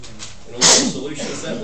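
A single sharp sneeze bursts out abruptly in the middle of a person's ongoing speech.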